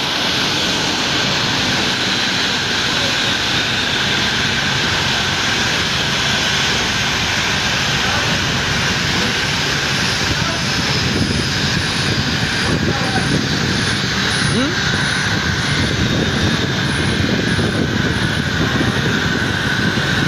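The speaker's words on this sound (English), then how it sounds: "the flight continues to land already" A passenger airplane lands at an airport during a presidential arrival. A loud, continuous engine roar dominates for twenty seconds and swells slightly toward the end.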